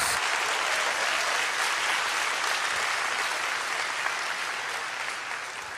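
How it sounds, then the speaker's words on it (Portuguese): A church congregation claps together in loud, dense applause that holds steady for several seconds before easing slightly at the end, with no voices over it. "Pode dar um aplauso ao Senhor"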